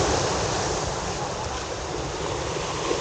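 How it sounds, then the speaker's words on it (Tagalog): Steady roar of ocean waves crashing and washing continuously, loud and close, mixed with wind rushing over the microphone, at Baseco shore in Manila with strong waves while fishing. "lakas ang alon no"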